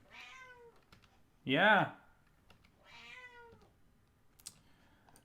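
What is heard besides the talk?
cat meowing while playing with tissue paper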